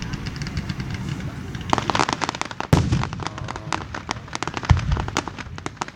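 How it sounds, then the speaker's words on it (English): Fireworks at a Lancaster display burst in the sky in rapid crackling volleys with a few deeper booms, loud and continuous, while people react and talk nearby. "Now these are what I call fireworks."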